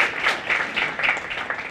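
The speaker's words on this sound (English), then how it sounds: "If everybody could just give a round of applause to Ann" A short burst of audience applause at an anniversary celebration, many hands clapping together in an uneven, moderately loud patter for under two seconds.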